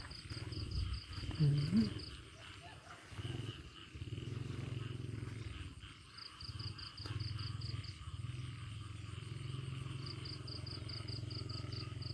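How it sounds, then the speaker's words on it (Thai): A chorus of frogs croaks loudly at night as a low, steady throbbing that carries on throughout. Faint rhythmic insect trills pulse above it, and the whole scene is quiet and distant. "เสียงกบเขียนห้องสนั่นเลย"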